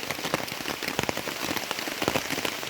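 Steady rain patters outdoors at a camp, a dense, continuous hiss of drops striking surfaces nearby, moderately loud and unbroken, with no voices.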